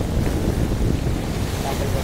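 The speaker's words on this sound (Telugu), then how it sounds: "అలలు మాత్రం చాలా పెద్దగా వస్తున్నాయి." Large ocean waves surge and crash along a shore where fishermen are working, a steady roaring wash buffeted by heavy wind noise on the microphone throughout.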